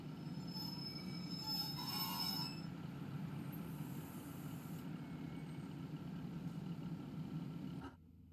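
In Train Simulator, a Class 156 train on the Warrington Central to Liverpool Lime Street line departs, rumbling steadily with high wheel squeal early on, then the sound cuts off abruptly near the end.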